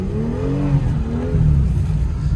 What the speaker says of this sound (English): I'm just tapping the throttle here, going back and forth